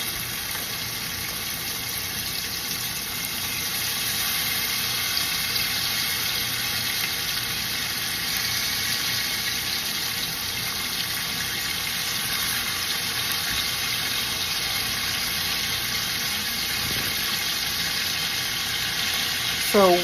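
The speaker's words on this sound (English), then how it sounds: "now you go ahead and add your fresh green beans to the pot. And basically you just kind of want to get those a nice little sear" Fresh green beans searing in a hot pot give a steady, loud, even sizzle that runs unbroken throughout, with a faint hum beneath.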